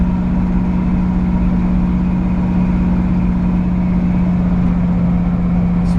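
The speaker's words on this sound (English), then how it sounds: "It's got a nice aggressive exhaust, but it's not annoying cruising in it." A 1965 Chevrolet C10 truck with an aggressive exhaust drones steadily and loudly at a constant engine speed, heard close by with no voices.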